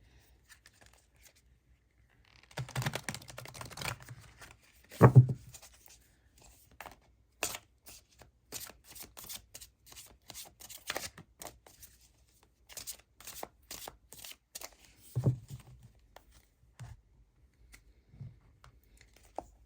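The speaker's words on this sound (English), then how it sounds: "that was not a very good shuffle. Let's try that again." Tarot cards are shuffled in a few quick riffling bursts, with soft taps and pauses between them.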